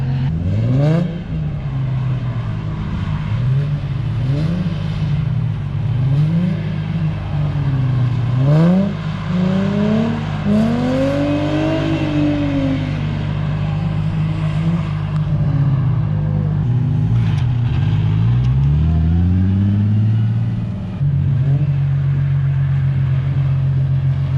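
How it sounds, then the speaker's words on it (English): Cars doing left-hand drift donuts at a Texas drift academy, engines revving and rising and falling in pitch in repeated sweeps, loud and sustained throughout. "they've switched it up and now they're doing left-hand donuts"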